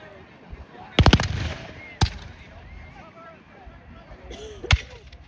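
Musket volleys from reenactment troops at a Bridgewater armed forces event: two sharp close shots about a second apart, then a single crack a few seconds later, with crowd chatter and outdoor murmur underneath.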